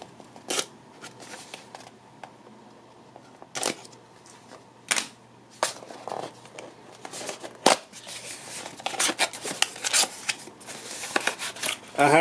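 A blade cuts through the sides of packaging on a Xenoblade Chronicles 2 special edition box, making scattered sharp snips, scrapes and crinkles in irregular bursts, close up and mostly alone.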